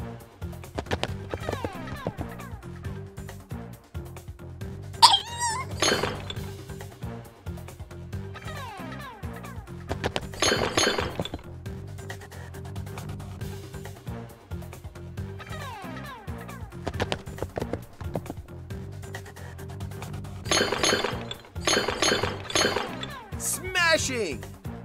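Objects smashing in the Wild Kratts Rhino Bowl video game, with bursts of crashing noise landing every few seconds over steady game music and voice lines.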